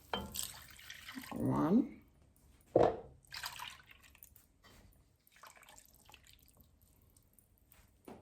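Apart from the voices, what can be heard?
pouring whole milk into a pot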